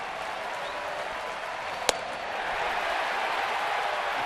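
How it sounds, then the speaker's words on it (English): Baseball stadium crowd at a Braves playoff game, a steady wide roar of cheering and applause that swells slightly toward the end, with one sharp brief crack partway through. "You hear the crowd going crazy"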